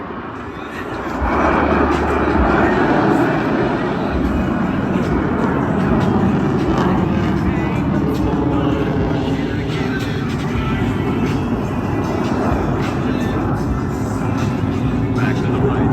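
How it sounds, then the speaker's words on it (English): US Navy Blue Angels jets roar past at a beach airshow, a loud sustained rumbling engine wash that swells in and holds steady, with an announcer talking over it. "each pilot will perform an individual brake turn and exit the flight line in a separate direction"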